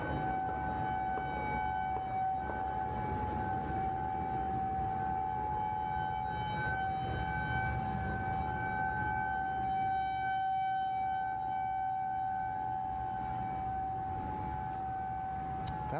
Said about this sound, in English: That was an alert siren put out in the CDC area.